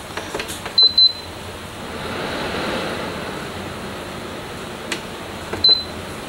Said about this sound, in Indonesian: Kecepatan kipas saya set di 2. Pendingin saya nyalakan.